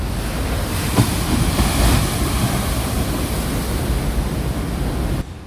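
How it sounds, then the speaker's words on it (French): Rough ocean waves breaking onto fine sand along the Benin coast near the Mono River mouth, a loud steady roar of surf with a surge around the second second, alone without speech. "Ces vagues déchaînées viennent mourir sur un amas de sable fin."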